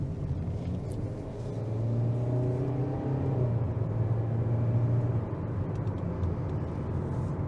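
A 2022 Kia Soul LX engine accelerates steadily while driving, giving a continuous low rumble with a rising engine tone that holds at a fairly even loudness and has no talk over it.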